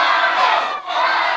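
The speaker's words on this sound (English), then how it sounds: "Now the audience cheering for Rhino," A wrestling crowd at an independent pro wrestling show cheers loudly and continuously, a dense roar of many voices that dips briefly before surging again.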